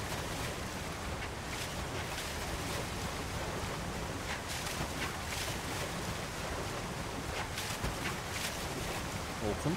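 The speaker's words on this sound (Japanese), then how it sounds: "この滝も結構高いな" A tall waterfall in Zelda: Tears of the Kingdom near the Water Temple, a steady broadband rush of falling water that roars without a break for the whole stretch, loud and close.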